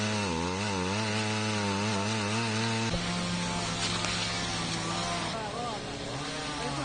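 A chainsaw cuts through a felled tree trunk, its engine droning steadily close by and shifting in pitch as the bar bites into the wood, running loud throughout.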